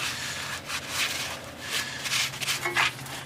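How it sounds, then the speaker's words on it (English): A cloth wipes excess brake fluid from a tightened bleeder on a 2001 Ford Excursion brake line, a series of soft, close rubbing swipes in an uneven rhythm. "Wipe off the excess."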